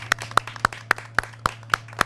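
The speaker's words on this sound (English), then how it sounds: "I want to give a big round of applause to you all" Clapping at a Land Manager of the Year award event, a steady even rhythm of sharp claps close by over a low constant hum.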